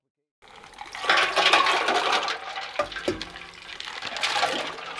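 Ice water pours steadily into a big pot to make a brine for cold-smoked salmon, a loud, continuous gushing splash that runs nearly the whole time after a brief silent start.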